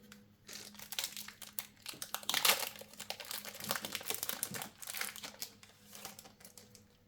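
A trading card booster pack wrapper being torn open and crinkled by hand, steady close crackling and rustling of foil plastic for several seconds, quiet and without talk.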